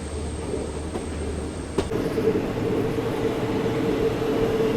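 A slip service train on the Vasco Da Gama to Hyderabad weekly express runs steadily with a continuous rumble and rail noise, heard from on board, with a brief clunk partway through and no talk.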